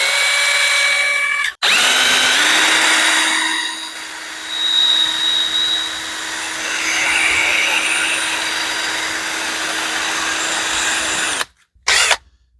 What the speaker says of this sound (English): we're just going to mount this in the drill. And we're going to spin it right here in this piece of sandpaper.